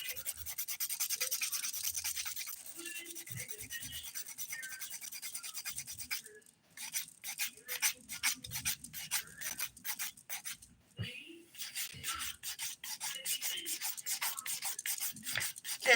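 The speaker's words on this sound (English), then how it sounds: "This is a 180 grit file, but it's got some bite on it. So I'm being pretty gentle if I can." A 180 grit nail file rasps across fingernails during a manicure, close and gentle, with continuous scratching at first, then quick repeated back-and-forth strokes.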